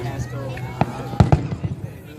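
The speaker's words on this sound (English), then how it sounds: "The fireworks." Fireworks at a Kaboom Town show, with a few sharp booms and pops spread over the moment, the loudest ones close together, over a steady crowd murmur and people talking nearby.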